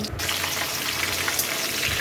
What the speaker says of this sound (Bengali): এটাকে একদম হালকা লো ফ্লেমে ভেজে নেব